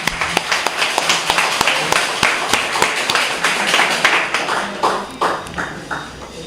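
Applause for McGarrell from the audience at an outdoor political rally in Grande Riviere, Gros Islet: lively, uneven clapping with sharp individual claps standing out, close and loud, thinning out toward the end.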